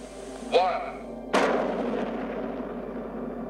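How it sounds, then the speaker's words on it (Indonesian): A sharp whistling pop followed by a massive sudden blast from a nuclear bomb test, the world's first, on 16 July 1945, whose roar slowly rumbles away, heard from a distance. "Pelaksanaan ledakan nuklir pertama di dunia terjadi pada tanggal 16 Juli 1945"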